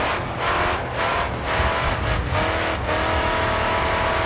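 A racing car in GRID 2 revs hard and continuously, its engine note rising and dropping through gear changes with brief dips between shifts, loud and close, with no talk over it.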